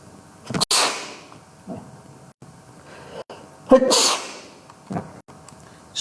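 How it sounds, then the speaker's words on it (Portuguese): A few sharp sneezes burst out between quiet pauses, close and loud, with some short bumps and knocks in the background. "Desculpe aí os espirros"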